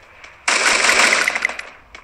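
A rapid burst of automatic gunfire from a shooter video game, loud and close, lasting about a second before trailing off, with no talking.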